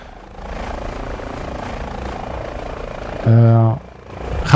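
An H145 helicopter in TOPR rescue livery in a flight simulator gives a steady rotor and turbine drone, with a louder low harmonic tone swelling briefly near the end, under someone speaking.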